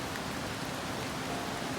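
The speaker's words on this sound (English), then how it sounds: "It's been raining all day." Steady rain falling at a backpacking campsite in the Dolly Sods Wilderness in late September, a continuous close patter on surfaces with no voices.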